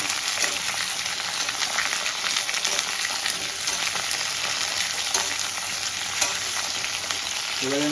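Potatoes, cauliflower and slit green chillies frying together in a pan give off a steady, dense sizzle with occasional stirring scrapes, loud and continuous with no voices.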